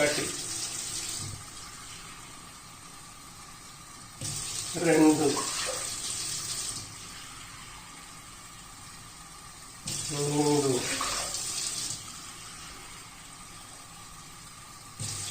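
Water pours twice in short splashing bursts into jowar flour for garelu batter, over a quiet room hum, while a voice counts briefly between them.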